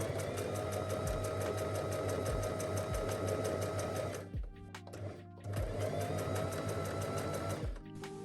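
Sewing machine stitching down a denim seam on a corset top, running in two steady, fast bursts with a brief pause between them, close and clear.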